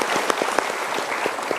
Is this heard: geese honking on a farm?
no